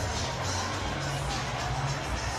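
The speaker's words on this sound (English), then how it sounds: "what a wonderful reception from the Sandy Park crowd for Jacques Berger and the Namibia pack" A rugby crowd at Sandy Park roars and cheers steadily for the Namibia pack, a dense wash of distant stadium noise with no gaps.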